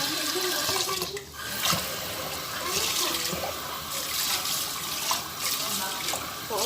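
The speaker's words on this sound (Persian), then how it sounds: "با آب خوب برنج را میشوییم." Rice being rinsed with cool water for pilaf, a continuous splashing and trickling stream with small clinks and swishes throughout, fairly close.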